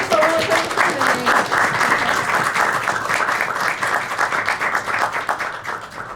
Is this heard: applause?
yes